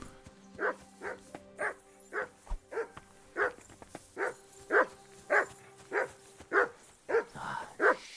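A dog in the video game Kingdom Come: Deliverance II barks steadily in a regular rhythm, roughly a dozen clear barks spaced evenly, moderately close, with only faint background sound and no talk.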